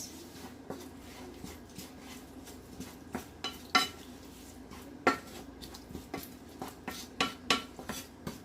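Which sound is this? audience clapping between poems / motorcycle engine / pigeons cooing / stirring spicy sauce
stirring spicy sauce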